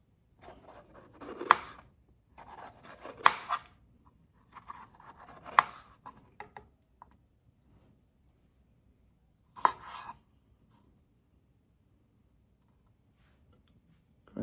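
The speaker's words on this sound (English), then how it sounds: "thinly slice some of my pepper, not too much." Knife thinly slicing peppers on a board for a Caribbean omelette, a few sparse crisp cuts in short bursts separated by quiet pauses, close and fairly soft.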